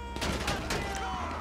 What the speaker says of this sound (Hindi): ओ शिट, गोली पड़ना शुरू हो गई है